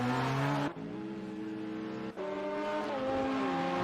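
GTE and LMP race cars roar around Le Mans in a 24-hour racing video game, with engines revving and shifting gears in two sharp changes, loud and close, with no talk.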